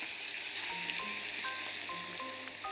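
Finely chopped fresh ginger fries in hot oil in a pan while being stirred, giving a steady, loud sizzle close by with faint scraping, and no voices.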